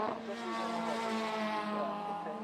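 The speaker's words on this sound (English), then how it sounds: "Just listen to those little cars absolutely singing as they come over the crest of Duffus Dip there" High-pitched engines of small Ford Fiesta and MINI Cooper S race cars whine steadily as they pass close over a crest, their tones shifting slightly, loud and continuous with no talk.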